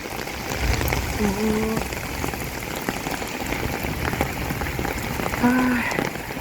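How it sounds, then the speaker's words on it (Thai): Steady rain hisses across surfaces, a constant wash of noise with a few faint creaks or chirps poking through. "ฝนตกลงมาแล้ว"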